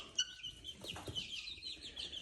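Faint rooster clucks with some wing flapping, farmyard fowl sounds in short irregular bursts, quiet and without speech.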